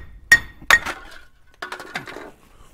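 Metal parts clinking as a wheel bearing and dust shield come off a lowered pickup truck: two sharp ringing clinks close together, then a short cluster of lighter rattling clanks, close up and with no talking.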